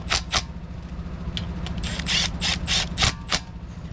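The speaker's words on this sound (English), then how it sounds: "if it has a torque spec, please torque it down" A ratchet wrench clicks in quick bursts while bolts are torqued down on a junkyard Honda K24A2 engine bottom end, close and loud over a steady mechanical background hum.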